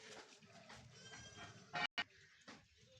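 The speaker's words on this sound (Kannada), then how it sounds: "ಕುರಿಮರಿ, ಆಡುಮರಿ ತುಂಬ ಸಕ್ಕದಾಗ ಸೌಂಡ್ ಮಾಡ್ತೈತೆ ಕುರಿಮರಿ ನೋಡಿ" A lamb on a farm in Melapura village, Srirangapatna taluk, Mandya district, gives a short, fairly close bleat over faint farmyard background, with no talk.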